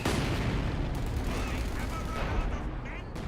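An artillery barrage in the strategy game Company of Heroes 2: a dense, continuous roar of overlapping blasts and rumbling booms, loud and unbroken throughout.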